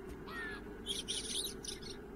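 A little bird chirps in a snowy winter scene of the Beyond Eyes video game, giving a few bright, quick tweets over a steady low ambient hum, with no talking.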